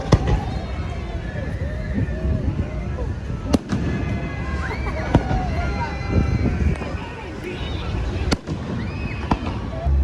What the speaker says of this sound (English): Nothing like a little fireworks.